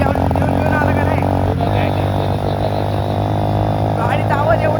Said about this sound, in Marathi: गाडीचा आवाज एवढा येतोय, मोबाईल मध्ये आवाज नसेल येत